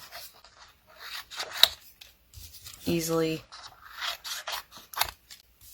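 Shears snip through paper during fussy cutting for scrapbooking, giving short, close crisp cuts amid brief rustling, with a voice speaking briefly.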